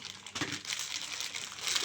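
Soft crinkling of a plastic packet being handled up close, a quiet, continuous rustle with small crackles and no talking.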